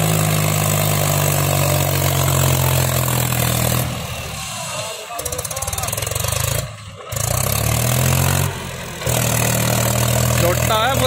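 A Mahindra 265 DI tractor diesel engine labours hauling a heavily loaded trolley, a loud, steady, close rumble that briefly dips and returns, with people talking over it.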